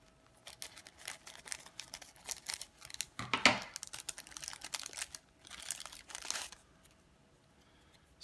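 Packaging around a Diatone power distribution board being cut open, a close series of crinkling, tearing and snipping bursts with short pauses, one sharp louder rip in the middle.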